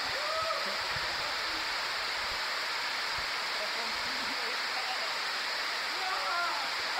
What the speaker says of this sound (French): aller sous la cascade à 8h34 du matin